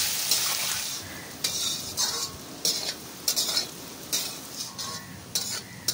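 Chopped onion frying in hot oil with spices, stirred with a utensil in a pan for a Bengali chicken kosha, giving a steady close sizzle broken by repeated scraping stir strokes.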